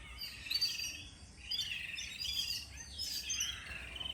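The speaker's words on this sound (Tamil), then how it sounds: "இந்த குருவி கத்துறதை பார்த்துட்டு இருந்தோமாக்கா" Small sparrow-like birds, konava kuruvi, calling in front of a house: bursts of high, bright chirps and twittering come in repeated clusters at moderate distance, with no voices.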